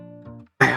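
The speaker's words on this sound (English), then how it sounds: "trying to clear my throat from whatever is going on here" A person clears their throat. A low, harsh rumble comes first, then a brief pause and a sharp, louder rasping burst, all very close and short.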